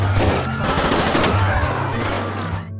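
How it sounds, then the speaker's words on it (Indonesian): Wild, indiscriminate gunfire from gang members in a Mexican crime film scene crackles in a dense, continuous burst of rapid shots, loud and close, before cutting off abruptly. "Para anggota geng berusaha membunuh Sosedo dengan tembakan membabi buta."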